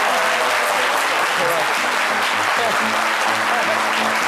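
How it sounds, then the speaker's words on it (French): A French television studio audience claps for Docteur Philo on a midday show, a steady wash of applause with a voice talking over it throughout. "Docteur Philo, que je vous demande d'applaudir très, très fort"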